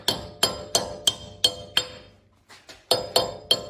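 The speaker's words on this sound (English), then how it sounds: "I'll just install it with a regular hammer." Sharp metallic taps from a hammer driving a front CV axle into place on a Toyota 4Runner strike in a steady rhythm, about nine blows with a brief softer pause midway, close and ringing.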